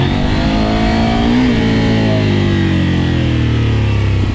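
A Kove 800X Pro motorcycle engine revs hard through a power wheelie, a loud, close, sustained roar whose pitch climbs and wavers without pause over a few seconds.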